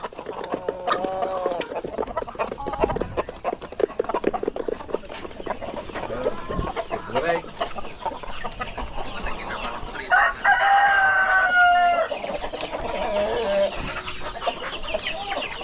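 Black Australorp and Dekalb Brown chickens on a farm in Paniqui, Tarlac cluck steadily up close, with a rooster crowing loudly midway through the flock's chatter; no talking.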